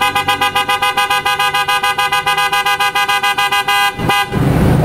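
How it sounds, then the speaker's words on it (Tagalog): A small PIAA auto-style car horn honks in a rapid series of short, loud beeps, then one longer blast that cuts off into a rush of noise. "So sound check tayo ng auto style horn."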